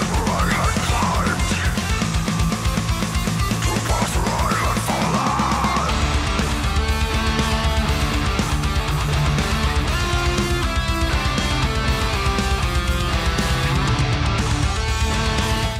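Melodic death metal playing continuously and loud throughout, with dense distorted guitars, pounding drums and layered melodic leads.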